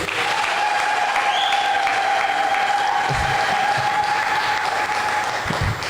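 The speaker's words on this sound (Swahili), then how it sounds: "Hayo makofi yanatosha kweli na vigelegele?" A church congregation of the Evangelical Lutheran Church in Tanzania applauds: dense, sustained clapping from a large crowd, loud and even for the whole stretch, with a faint held voice tone running through it.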